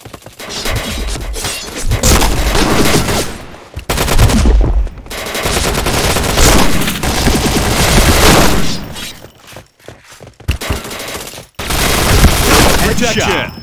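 MP7 submachine gun fire in the shooter game Point Blank, loud rapid automatic bursts repeating with short pauses between them, up close, with a voice talking over parts of it.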